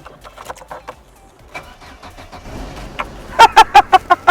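A car engine running on rapeseed oil cranks weakly amid faint background noise, then a series of loud, rhythmic sputtering turns as it struggles to catch.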